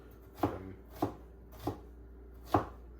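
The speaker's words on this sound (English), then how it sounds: "For this, we're just going to do a rough chop." An onion is roughly chopped with a knife on a board, four distinct, evenly spaced thuds close by, with no talk.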